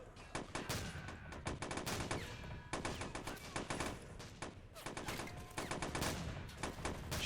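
Dense, continuous gunfire from a Men of War: Red Rising battle at a border wall, with rapid shotgun blasts and automatic bursts overlapping in loud, relentless volleys throughout, no talk.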